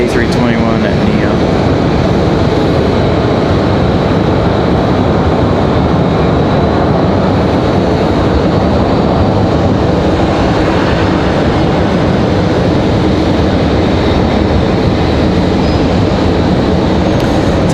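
An Airbus A321neo arriving at Raleigh-Durham from Miami, a loud continuous jet roar close by that holds steady throughout, with some talking mixed in.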